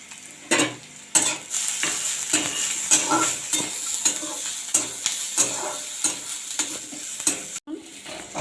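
Onions fry to a brown colour in a pan, a steady close sizzle broken by regular sharp scrapes and clinks of a spoon stirring against the metal, with no talking.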